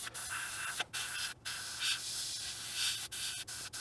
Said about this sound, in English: how I use the airbrush.